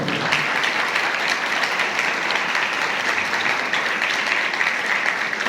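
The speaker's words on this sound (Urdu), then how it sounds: "خدا کے جلال کے لیے بھرپور تالی بجائیں گے" A church congregation claps together at a New Year service, giving a full, even wash of applause that stays steady and loud from start to finish with no voices over it.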